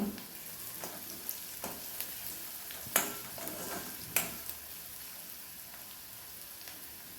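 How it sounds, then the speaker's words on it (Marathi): Chopped onion sautés in a pan with a soft, steady sizzle and crackle, close by, with a few light scrapes and knocks of the spatula stirring it. "अजून साधारणतः एक मिनिट कांदा परतवून घेऊ"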